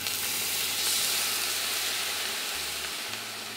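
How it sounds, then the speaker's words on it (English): Seafood paella rice hissing and sizzling in a hot pan as Chardonnay white wine hits it to deglaze, a close, steady bright crackle with a low hum underneath. "we're going to deglaze it with a little bit of Chardonnay, some white wine"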